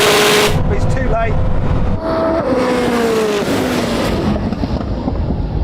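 Bugatti Chiron and Koenigsegg Jesko hypercars racing a quarter mile, loud roaring engines with rising and falling gear-change whines, close and continuous, with voices talking over them.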